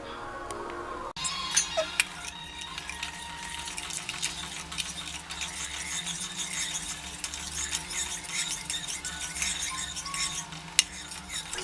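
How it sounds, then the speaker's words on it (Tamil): Roasted semolina (rava) is stirred continuously in a pot of jaggery syrup for thiruvathirai kali, with soft, close scraping and thick bubbling, and occasional light ticks of the spoon against the pot. "கைவிடாமல் கிளறிட்டே இருக்கணும்"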